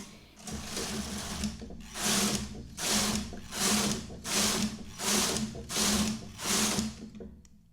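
A knitting machine carriage being pushed back and forth to knit rows of a cable-look rib stitch, giving about eight evenly spaced rasping, clattering passes, close and with no talk.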